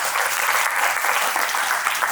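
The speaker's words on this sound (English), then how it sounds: "Please give him a big round of applause." Applause from an audience at a spiritual gathering, steady, dense clapping filling the whole moment with no gaps.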